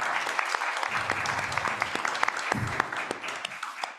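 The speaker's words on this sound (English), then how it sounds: "Please join me in a round of applause for Peter," An audience at an academic book event applauds contributors, a moderate round of clapping with sharp individual claps standing out, continuous and fading a little at the close.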